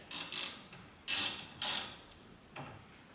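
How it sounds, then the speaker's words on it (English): A 12mm socket on a ratchet tightens a fastener during a Koni shock rebuild on a 1977 BMW R75/7 motorcycle: several short, close bursts of clicking ratchet strokes separated by brief pauses, with no voice. "Now 12mm socket, you just tighten it."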